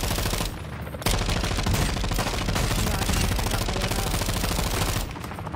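Rapid automatic gunfire in a video game aimed at bots, a dense continuous burst of shots lasting several seconds, loud and close, with no talking over it.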